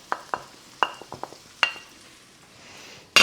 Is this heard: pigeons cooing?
no